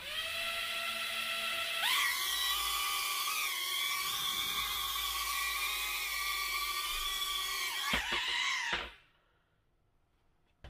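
A U61 beginner drone's propellers whine loudly and steadily at a high pitch, with the tone wavering slightly before sputtering and cutting out, leaving near silence.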